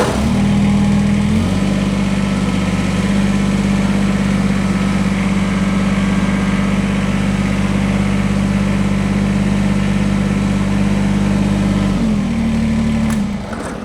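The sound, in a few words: Kubota BX23S tractor engine running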